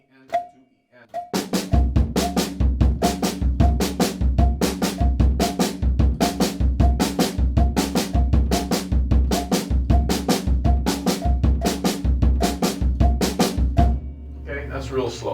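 Drum kit playing a left-foot clave pattern, with steady rapid hand strokes and bass drum hits in an even, driving rhythm, loud and close, played alone without talk.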